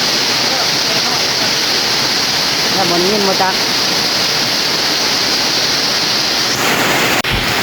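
Steady, dense hiss of heavy rain pouring down close by, with someone speaking briefly over it.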